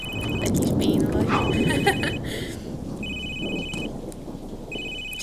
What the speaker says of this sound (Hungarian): Csörög a telefon, de nem tudjuk felvenni.